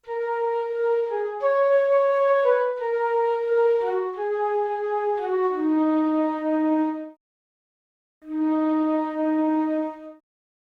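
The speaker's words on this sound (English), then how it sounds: "the flute is from Sonatina Orchestra as well, and it's a flute sustain. It sounds like this." Sustained flute from Sonatina Orchestra plays a slow melody of held notes that step downward, loud and clean. It falls silent, then returns for one more long note, with no voices.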